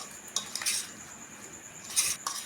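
A spoon stirs and mixes dhokla batter in a bowl, giving a few quick scraping clinks and swishes, close and fairly quiet, with a steady faint hiss underneath.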